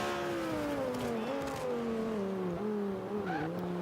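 A 2005 Honda NSX race car engine in Forza 5 accelerates with a strained, steady whine that climbs in pitch, dips briefly as it shifts and rises again near the end, heard alone with no talk.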